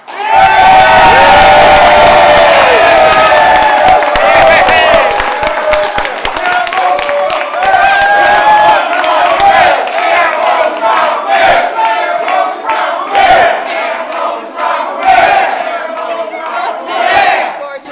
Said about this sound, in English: Let's give our future mayor a round of applause